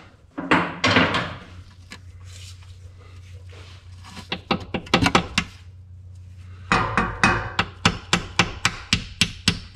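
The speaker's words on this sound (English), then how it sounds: "we're just tapping it with a hammer and a punch" Sharp metallic taps from a hammer striking a punch during Jeep ZJ rear main seal work, irregular at first, then a steady run of evenly spaced blows near the end, with a low hum underneath.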